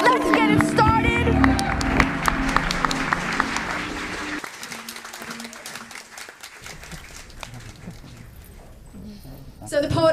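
Audience at a slam poetry event claps and cheers loudly at first, the applause thinning out over a few seconds with a host's voice speaking over it.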